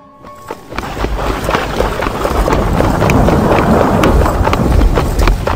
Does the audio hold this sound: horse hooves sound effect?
yes